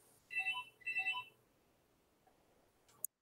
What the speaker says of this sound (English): I haven't heard that landline ring in like 10 years